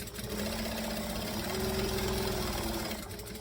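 A sewing machine stitching and back stitching fabric, a steady close motor whir running continuously without pause.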